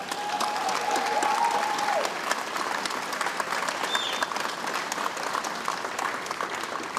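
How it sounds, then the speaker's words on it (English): Crowd applause for veterans and military personnel at the Boston Harborfest 2019 opening ceremony at Faneuil Hall, a steady dense clapping from a sizable audience sustained throughout at moderate distance, with a faint whistle-like tone briefly early on. "Can we give them a round of applause, please?"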